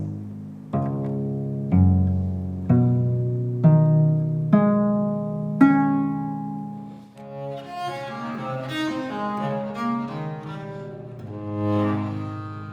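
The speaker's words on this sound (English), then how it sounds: "The one that I have here today is a bass viola da gamba." A bowed bass viola da gamba, tuned in fourths with a third in the middle, plays six sustained, resonant notes rising one after another, then moves into a fuller, flowing chordal passage, close and clear with no voices.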